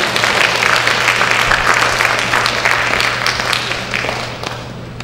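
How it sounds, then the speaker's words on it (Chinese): A school concert audience applauds to welcome the principal, a dense sustained wash of many hands clapping that gradually fades toward the end. "掌声欢迎校长。"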